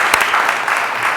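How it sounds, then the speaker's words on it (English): Applause from an audience at a city council regular meeting, honouring the vice mayor: a short, dense burst of clapping that fills the whole moment without a break. "So if you all give him a very big round of applause and thank him."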